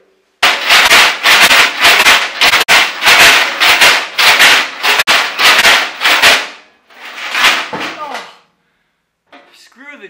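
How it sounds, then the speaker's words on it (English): Chains shaken inside the fuel tank of a 1976 Mazda RX-5 Cosmo during restoration cleaning, producing loud, close bursts of metallic rattling in quick rhythmic shakes, followed by a pause and a brief final rattle. "shake a tank full of chains for an hour or two"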